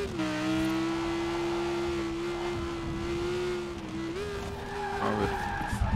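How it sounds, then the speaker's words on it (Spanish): A race car in a racing video game skids on snow, its engine holding a steady drone with a sustained slide and brief rise near the end, loud and continuous without talk. "Pero este carro, ¿por qué está derrapando tanto hoy, hombre?"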